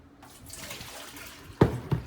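Water flushes from the dispenser of an LG French door refrigerator after a new LT700P filter is fitted; a soft, steady stream runs into a container, ending in two louder splashy knocks.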